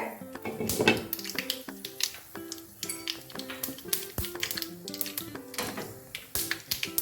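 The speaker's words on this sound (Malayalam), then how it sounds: "കടുക് പൊട്ടിക്കൊണ്ടിരിക്കുകയാണ്" Mustard seeds pop in hot oil in a pan, a dense, irregular run of sharp crackling taps close by, steady across the whole stretch, with no talking.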